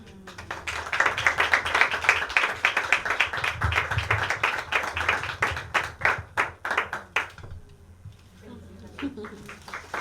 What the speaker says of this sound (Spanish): también deben recibir un fuerte aplauso